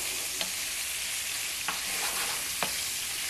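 Steak sizzling and frying in a pan for burritos, a steady broadband hiss with a few brief clatters as the pan is shaken, close and moderately loud.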